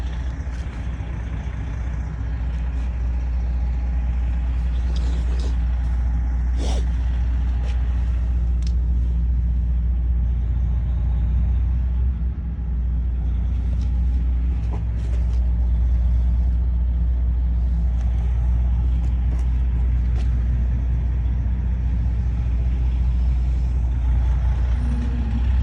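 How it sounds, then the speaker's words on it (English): A blue 1967 Chevrolet Chevelle with a 454 V8 and four-speed runs steadily at idle, a deep, constant, loud rumble close by with faint higher clatter on top and no talking. "So we are going to fire it up, and we'll hop in it and drive it."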